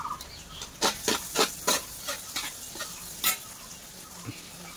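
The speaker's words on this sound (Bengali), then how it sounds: "এর জন্য ফ্রাইড রাইসটা হচ্ছে উনানে বসানো হচ্ছে।" Fried rice with cashews and raisins stir-frying in a large wok on a stove, a quiet steady sizzle broken by a run of sharp scraping stirs and a few softer ones, with no talk.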